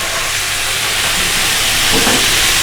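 Cubed boneless chicken breast fries on a hot tawa, giving a steady, loud broadband sizzle and hiss that holds evenly throughout with no pauses.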